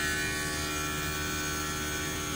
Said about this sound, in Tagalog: pati yung yung ingay niya, yung tunog ng compressor guys